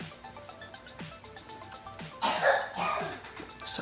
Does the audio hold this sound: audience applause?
no